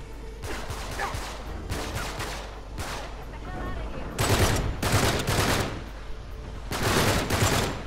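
Gunfire in the video game Uncharted 3 comes as several separate bursts of rapid shots, the later ones louder and nearer, with quiet gaps between volleys.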